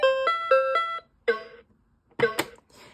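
Bright electronic beeps play in a quick sequence of short tones, pausing between small groups, from a Super Simon (2003) handheld electronic memory game chiming alone.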